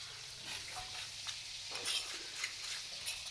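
Luchi, a small puffed flatbread, frying in hot oil gives a quiet, steady sizzle with light crackles and stirring scrapes, fairly faint and close, with no talk.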